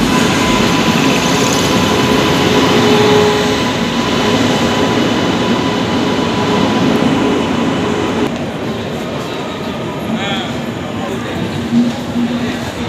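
Jaynagar Weekly Express train pulling into platform 1 at Darbhanga Junction, a loud continuous rumble of rolling wagons that eases slightly toward the end, with speech-like sound mixed in.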